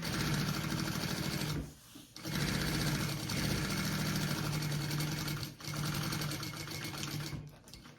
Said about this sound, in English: I think I'm gonna start basting from the center and go out so it's not all weird on my foam.